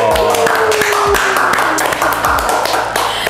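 A small group claps hands for a physiotherapy team in a clinic setting, sharp repeated claps over a background of tonal music, fairly loud and close.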